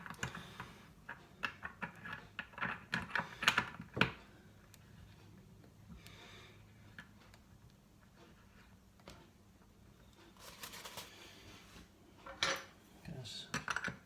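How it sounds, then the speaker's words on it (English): A ceramic tap cartridge valve is slid into a Franke Ascona tap and twisted back in, producing a run of close, sharp metallic clicks and scrapes, then quieter ticks after a pause. "I'll slide the valve in and start to twist it back in again."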